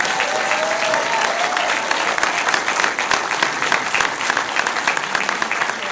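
A film awards ceremony audience applauds with loud, continuous clapping from many hands, a brisk crackling wash that stays even for the full six seconds with no talk over it.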